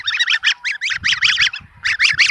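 Young tame geese kept in a pen honking in rapid, repeated bursts, a close, busy chorus of short calls with brief gaps between runs.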